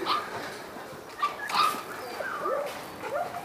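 A golden retriever whimpering and yipping in short high whines, with a few faint bark-like sounds, close and fairly quiet against a soft background.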